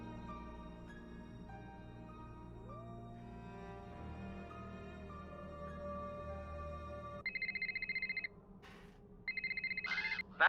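A landline telephone in the Nancy Drew game rings in two bursts of shrill electronic trills near the end, following a stretch of low sustained musical drone.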